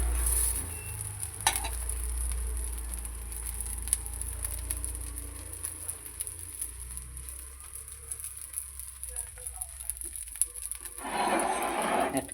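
Pesarattu, a mung bean dosa, cooks on a pan with a soft, steady sizzle and low background hum, punctuated by a few sharp clicks and a brief louder hiss near the end.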